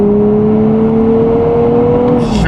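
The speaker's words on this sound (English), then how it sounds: "we're gonna go and pop it into Sport Plus and experience that 420 horsepower right now" Nissan Z NISMO with 420 horsepower pulling hard in Sport Plus mode, a steady loud engine drone heard from inside the car, holding its pitch and then dipping briefly at the end as it shifts.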